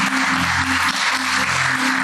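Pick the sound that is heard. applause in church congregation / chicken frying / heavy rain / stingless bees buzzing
applause in church congregation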